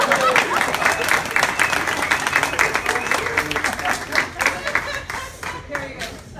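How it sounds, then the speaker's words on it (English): Lively graduation crowd clapping, with sharp individual claps standing out over a thick bed of applause, holding strong before gradually tapering near the end, with some voices mixed in. "Give a round of applause for Candace."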